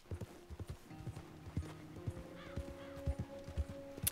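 Horse hooves clip-clop in the video game Red Dead Redemption 2, a steady rhythmic run of clear, close hoofbeats over a low musical drone, with a brief whinny-like tone midway.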